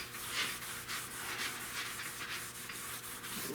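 A car dash pad is scuffed down with a pad and soap before dyeing, giving a close, steady rhythmic scrubbing rasp in repeated back-and-forth strokes, with no talking.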